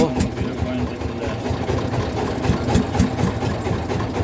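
A boat engine chugs near Jaflong Zero Point, a steady low rumble with a faint knocking rhythm throughout, close by, with voices over it.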